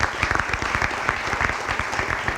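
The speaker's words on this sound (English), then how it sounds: "so let's give her a big round of applause, please" Sustained audience applause at a regional radio station's spring awards ceremony, dense steady clapping from a crowd with a few sharper claps standing out nearby.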